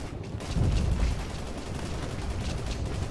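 Rapid gunfire crackles in a military shooter, Operation Flashpoint: Red River, with a Norinco QJB-95 in play; dense overlapping shots and booms fill a short burst, loud and steady.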